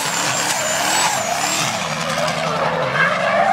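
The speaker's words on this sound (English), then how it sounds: "agregat koji Dario ima pod kaubom izbacuje preko 500 konjskih snaga" Turbocharged race car making over 500 horsepower, skidding with a loud continuous engine roar and tire noise at a Leskovac racing event, heard close and alone.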